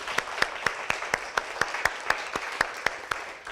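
A classroom audience gives a round of applause after a student group's presentation, steady dense clapping with sharp individual claps standing out, fairly close and loud, continuing without speech.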